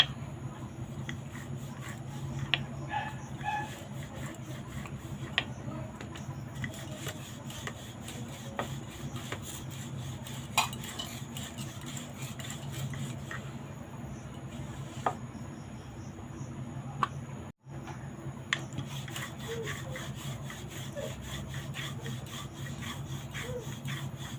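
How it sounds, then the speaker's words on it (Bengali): A rolling pin flattens dusted roti dough into a thin round, making faint, steady rhythmic rubbing and scraping strokes with occasional light knocks and no talk. "এবার এই রুটির যে লেচিটা আছে লেচিটা ভালো করে নিয়ে একটু ময়দা ছিটিয়ে নিয়ে এবার একটা রুটি শেপে বেলে নেব"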